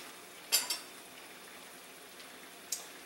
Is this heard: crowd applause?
no